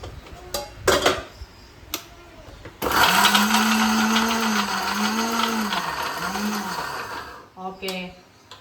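A kitchen mixer grinder crushes ginger, garlic and fennel seeds in a loud, whirring burst of about five seconds, its motor pitch wavering as the blades churn, with brief knocks and handling noises before and after.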